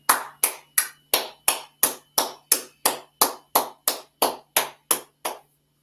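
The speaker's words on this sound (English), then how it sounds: "Let's clap it up." A class claps together in unison at the end of a Friday night Lashawan Qadash language session, about fourteen sharp, evenly spaced claps in steady rhythm, close and clear, then stopping.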